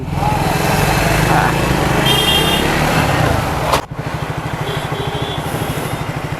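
A two-wheeler engine running steadily while being ridden, loud and close with a continuous drone that dips after a sharp knock, then settles into a rhythmic throbbing putter.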